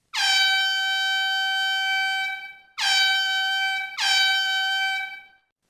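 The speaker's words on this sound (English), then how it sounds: "You tell a crew member to stand by with the air horn and sound a signal every 2 minutes or less." Air horn fog signal blasts in the CD-i game Sailing: one long steady tonal blast followed by two shorter ones, loud and clean with no voices.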